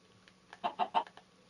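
A Minecraft chicken gives three short, soft clucks in a quick row, faint and close against a quiet background.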